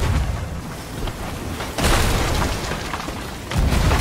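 Cannon fire in a Sea of Thieves ship battle: heavy, booming blasts over a constant roar of noise, with two sharper bursts standing out mid-clip and near the end, loud and close.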